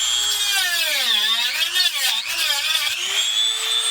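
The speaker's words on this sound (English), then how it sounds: "I'm going to use a Dremel grinder to maybe try to get some of the stuff up higher" A Dremel rotary grinder whines steadily against a door latch, its pitch sagging and rising as the bit bites into the metal, loud and close, with no talk over it.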